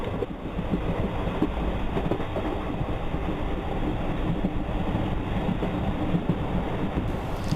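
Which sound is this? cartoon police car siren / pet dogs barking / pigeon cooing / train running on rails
train running on rails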